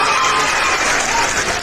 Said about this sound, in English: Make a clap for Titus. Make a clap for him.